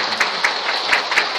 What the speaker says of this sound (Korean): 우리 따뜻한 환영의 박수를 보내주시기